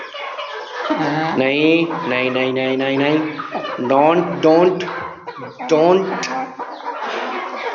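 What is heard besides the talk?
chickens clucking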